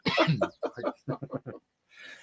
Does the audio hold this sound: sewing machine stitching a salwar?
no